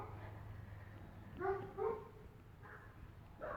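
Dogs bark and yip faintly in the distance, a few brief scattered barks over a low steady background hum, no talk.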